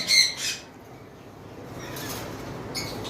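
Pet birds at a cockatiel and lovebird farm let out a couple of short, sharp squawks at the start, then fade into a quiet, noisy room tone with a faint chirp near the end.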